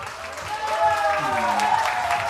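Crowd applause and cheering at a Korean nightclub-style stage show, steady clapping with whoops and some voices mixed in, fairly close and lively.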